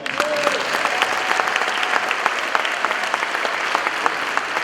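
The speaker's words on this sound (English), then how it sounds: "Everybody, can you give Ryan a round of applause?" Staff audience at a school district development day applauding steadily, a dense wash of clapping with a few sharper claps standing out and a faint voice or tone briefly audible underneath.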